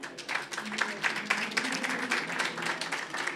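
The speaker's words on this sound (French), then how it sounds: "que vous pouvez applaudir." Audience applauding at a conference on innovation in island and overseas territories, a steady moderate clapping from a seated crowd with no talk over it.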